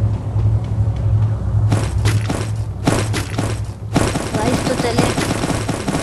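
Gunfire in the mobile battle game Free Fire, bursts of rapid shots and heavy thuds over a constant low rumble of game audio, loud and close, with a voice talking intermittently.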